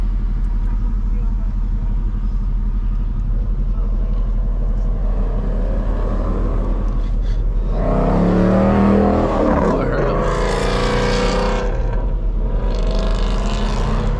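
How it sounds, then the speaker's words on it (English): Traffic rumble with a Ford Mustang engine revving hard and loud nearby, rising in bursts, while people talk over it. "I heard a damn Mustang."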